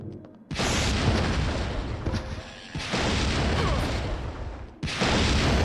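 Heavy gunfire in Dino Crisis 2 comes as three loud, booming, sustained blasts of noise, separated by short gaps, close and harsh throughout.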